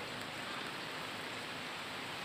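Steady typhoon rain hisses evenly, a constant dense patter with no wind, no pauses and no voices.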